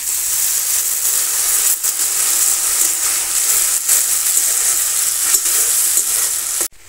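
Tomato paste goes into a pan of frying onions, setting off a loud, continuous sizzle with bursts of stirring that cuts off abruptly near the end.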